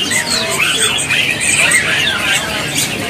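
Songbirds, including a jalak kebo starling, at a bird market kiosk in Pasar Pramuka, chirping and whistling in bright overlapping calls, close and fairly loud throughout, with a voice talking underneath.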